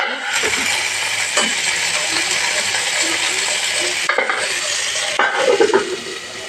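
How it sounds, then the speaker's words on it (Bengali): Eggplant slices fry in oil in a pan, a loud dense sizzle throughout, punctuated by scraping and stirring knocks and a couple of brief pauses, with no clear speech. "বেগুনগুলো ভাজা হচ্ছে"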